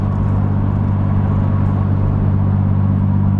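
A BMW Z4 with its exhaust backbox deleted cruising at 60 mph up a gentle incline under light throttle, giving a steady, loud, low droning hum inside the cabin with no talking.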